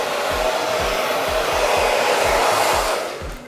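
A handheld hair dryer blows continuously and loudly at close range while drying hair with a paddle brush, its steady rush underlaid by a faint regular low pulse, then tailing off slightly at the end.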